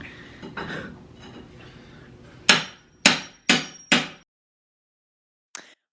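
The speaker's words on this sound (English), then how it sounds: "Love seeing you with that hammer" During a bathroom tile renovation, a hammer strikes four sharp, ringing blows in quick succession, then a fainter single tap follows after a pause, preceded by quieter shuffling.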